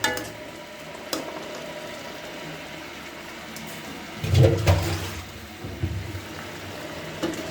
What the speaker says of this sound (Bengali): এবার দিয়ে দিব পর্যাপ্ত পরিমাণ পানি